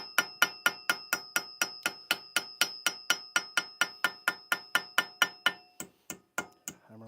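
A hammer strikes metal about twenty times in a steady, even rhythm, each blow ringing sharply before a few slower final taps.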